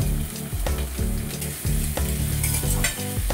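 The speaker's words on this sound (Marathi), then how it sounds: "आणि याला 1 मिनिटभरच फ्राय करून घ्यायचं आहे" Green beans, cabbage and onion fry in a pan for fried rice, a loud continuous sizzle broken by repeated scraping stirs in an uneven rhythm, with no talking.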